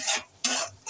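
Shrimp and bottle gourd curry stirred and sautéing in a pan, with short bursts of scraping and sizzling in three quick strokes, close and fairly quiet.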